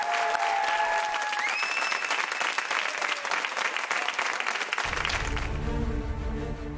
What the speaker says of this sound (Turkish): Emniyet Müdürlüğümüzün göz bebeklerini de alkışlarımızla uğurlayalım